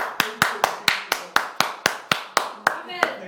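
About a dozen sharp hand claps at a steady, even pace, each one a crisp close-up smack.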